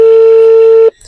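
A phone line gives out a single loud, steady electronic tone for just under a second before it cuts off abruptly into near silence, as a number is dialed for a prank call.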